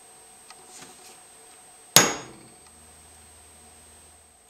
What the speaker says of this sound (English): Next, I'm going to clean up the corners on the notches with a chisel.